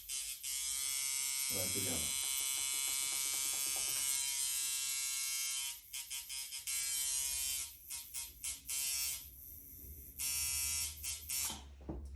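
Micky Sharpz coil tattoo machine, restored and reassembled, running with a steady high-pitched electric buzz that cuts in and out in short bursts, close to the microphone, with someone speaking briefly.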